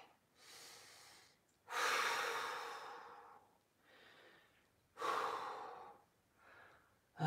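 Heavy breathing after an ab workout and pigeon stretch: a series of loud, close exhalations and sighs in uneven bursts, with softer breaths between, and no talking.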